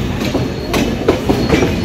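The Chitra Express passenger train in Bangladesh rolls steadily along the rails with a continuous rumble and recurring clickety-clack of wheels over track joints.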